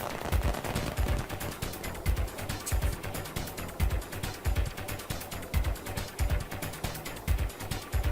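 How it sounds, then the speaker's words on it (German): Gunfire in The Sims 3 video game: a series of sharp, regular bangs repeat about every half second throughout, fairly quiet overall. "Das war bloß ein Schuss, dieses Ding."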